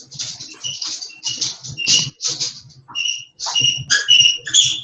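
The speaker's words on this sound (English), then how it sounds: "it's my dog playing with a toy" A dog plays with a squeaky toy, giving repeated high-pitched squeaks and squeals in irregular bursts with short pauses between them, close and fairly loud.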